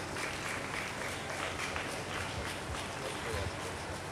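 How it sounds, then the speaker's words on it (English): A crowd at a church children's funfair claps continuously, faint and somewhat distant, blended with crowd murmur and background noise. "Keep clapping, please. Join your hands together."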